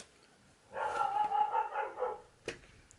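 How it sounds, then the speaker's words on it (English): A dog barks in a short burst from a distance, followed by a single sharper bark after a brief pause. "my dog's barking"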